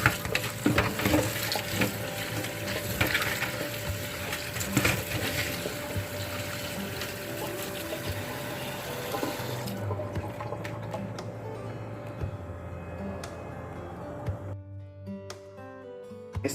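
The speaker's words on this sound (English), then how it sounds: "just rinsing it off" Dried sorrel rinsed under a running kitchen tap in warm water, a steady broad splashing stream over a sink that continues for most of the time, then grows sparser with a few drips near the end.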